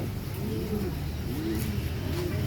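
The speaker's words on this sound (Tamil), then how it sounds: "ஏஷியாவிலேருந்து புறா, இது ஜெர்மன் புறா." Pigeons coo softly at a bird park in Trichy, low rolling calls repeated about three times under a steady background wash.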